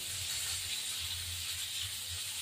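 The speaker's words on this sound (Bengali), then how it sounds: "মাছটা ভাজা হতে থাকুক" Bhetki fish frying in a pan, a steady close sizzle with a soft low hiss that runs continuously without any voices.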